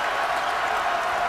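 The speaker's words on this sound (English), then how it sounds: "Crowd trying to get into it." Basketball arena crowd at a college game, Marquette at Butler, a steady broad roar of cheering and faint applause filling the whole moment without pause.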